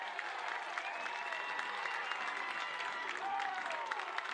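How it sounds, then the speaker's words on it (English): Sustained applause and cheering from a ballpark crowd at a 49ers college baseball game, erupting after a diving catch turned into a double play, steady and fairly loud throughout with no talk over it. "Nice crowd reaction Just there."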